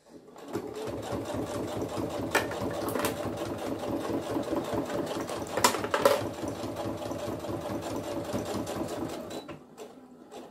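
A sewing machine stitches the corner of a lined rectangular zippered pouch, running in a steady rapid mechanical chatter for about nine seconds, with brief clicks partway through, before stopping.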